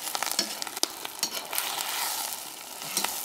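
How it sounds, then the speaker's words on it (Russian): Garlic and onion sizzling in a pan over a campfire, a steady close crackling fry with scattered pops and spits, loud and continuous with no voices. "Чесночок обжаривает."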